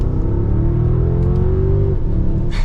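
A 2022 Mercedes-Benz S580 4Matic pulls hard in Sport Plus mode, its engine note rising steadily in a smooth, loud climb before easing off near the end, heard from inside the cabin with a constant deep rumble underneath.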